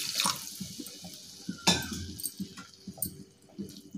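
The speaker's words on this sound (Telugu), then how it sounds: "ఇలా అంతా బాగా మిక్స్ చేసుకొని 1/2 కప్పు వాటర్ పోసుకోవాలి." Half a cup of water is poured into an egg keema curry in the pan, a short splashy pour with a few uneven gurgling bursts.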